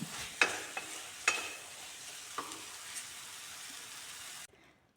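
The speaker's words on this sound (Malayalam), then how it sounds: "ഇനിയിപ്പോൾ ജസ്റ്റ് ഒന്ന് എല്ലാം കൂടി ഇളക്കി മിക്സാക്കി" A spatula stirs a green tomato stir-fry with pepper powder in a pan, giving a few scraping knocks over a steady sizzle before it cuts off abruptly near the end.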